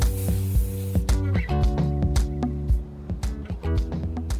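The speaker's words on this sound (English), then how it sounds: "now I'm going to spray paint it" Spray paint is applied to a basket in a short, loud hiss that fills roughly the first second, followed by a series of lighter clattering and tonal sounds.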